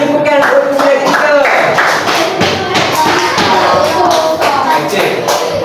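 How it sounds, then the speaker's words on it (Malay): A classroom audience breaks into lively applause, dense clapping mixed with thumps from desks close by, as voices talk over it. "Okey, bagi tepukan untuk yang ketiga."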